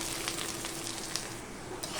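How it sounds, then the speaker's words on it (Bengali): Chopped ginger, whole garlic cloves, whole dried red chillies, garam masala and bay leaves frying in oil for a country chicken curry, a faint, even crackling sizzle for a couple of seconds. "আদা রসুনগুলো ভাজা হয়ে গিয়েছে,"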